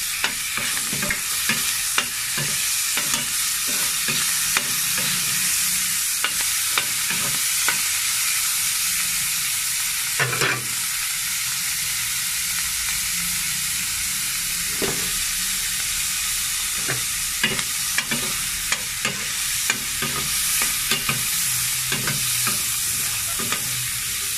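Ingredients sizzle loudly in a hot pan while being sautéed for ginataang sigarilyas at kalabasa, a steady frying hiss broken by frequent scraping stirs of a utensil, close and continuous.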